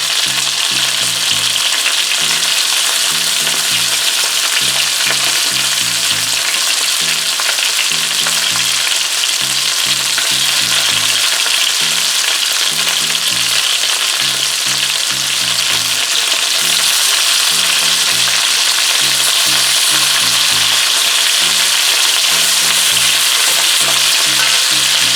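Oxtail browns in a hot pot for a Jamaican stew, giving a loud, steady sizzle and frying hiss throughout, with a faint repeating low clatter of stirring underneath and no talking.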